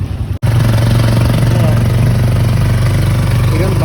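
An auto-rickshaw built from a motorcycle with a sidecar idles in Manila, a loud, steady, close engine drone that begins abruptly after a brief cut and holds evenly throughout.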